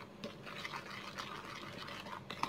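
A spoon mixing chocolate cake batter with added milk in a bowl, quiet wet rhythmic swishing and scraping strokes repeating steadily at close range, fairly faint throughout.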